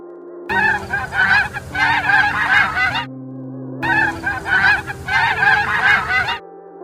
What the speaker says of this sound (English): What does the goose say?